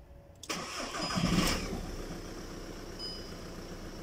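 A Volkswagen Golf engine cranks and catches with a sudden roar, then settles into a steady, moderately loud idle heard up close, with no talk.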